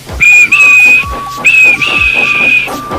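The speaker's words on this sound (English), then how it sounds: "And he blew his whistle." Loud, shrill steam locomotive whistle in the video game Trainz blowing in two long toots, with rhythmic chuffing puffs pulsing underneath.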